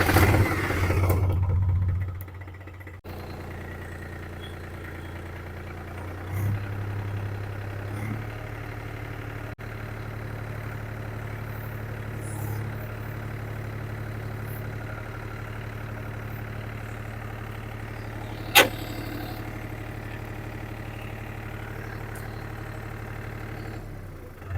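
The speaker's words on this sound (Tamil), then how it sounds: "ஸோ அப்போ நான் வண்டி ஸ்டார்ட் பண்ணி மூவ் பண்ணி காட்டுறேன்." A tractor engine idles steadily and low after a brief louder start, a continuous mid-pitched rumble with little variation and one short sharp click partway through, as it is set in creeper gear on low to move.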